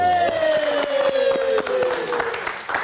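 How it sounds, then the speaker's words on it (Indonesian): Steady applause from a crowd, many hands clapping at close range with a sustained tonal hum gliding downward beneath it. "Mari kita tepuk tangan dulu."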